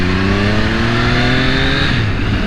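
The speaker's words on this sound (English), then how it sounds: "You definitely hear the intake on this thing." Intake roar from a 2020 Triumph Daytona 765 motorcycle engine under acceleration, a loud, close, steady rising drone with climbing harmonics and no talk.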